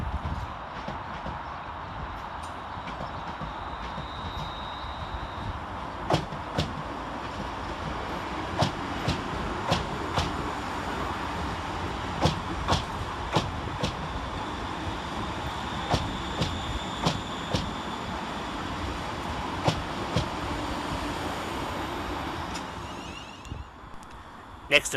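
A West Midlands Railway train crawls slowly into Aston station under a steady rumble, with irregular clacks and knocks from wheels over rail joints repeating through the pass.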